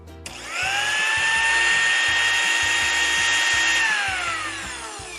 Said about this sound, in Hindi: ये ब्लेंडर की आवाज थी।